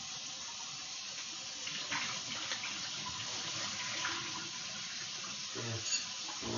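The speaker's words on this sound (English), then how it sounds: "I just wash it with warm water out of the geyser" Warm tap water runs steadily into a sink while a hummingbird feeder is washed, a continuous soft splashing stream with small clatters near the end.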